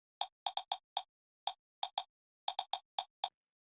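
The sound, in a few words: small percussion sample in house track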